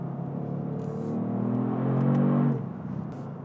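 A 2022 Kia Stinger GT engine accelerating, a smooth rising drone that swells to a peak before the throttle eases and it drops back to a softer hum.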